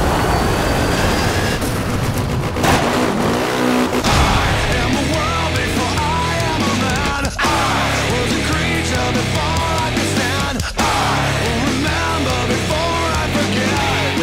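Off-road racing in the PlayStation 3 game Motorstorm: loud, continuous engine roar and rumbling vehicle noise with bumps and crashes, and several sharp drops in the din as cars go airborne, with no talk.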